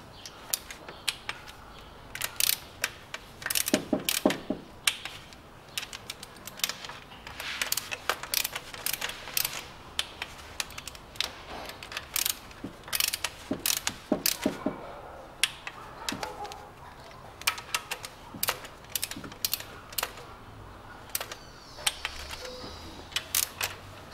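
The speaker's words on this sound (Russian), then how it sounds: "Теперь все остальные болты также 9 ньютон затягиваю" Timing belt bolts being torqued on a 2010 Chery Tiggo T11 1.8 engine, a dense run of close metallic ratchet clicks and taps in quick bursts, with no speech.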